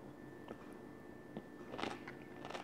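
Crisp bites and chewing of fermented cabbage sauerkraut, heard as a few faint, close crunches spaced apart, with a louder cluster of crunching toward the end.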